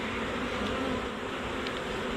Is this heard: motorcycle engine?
no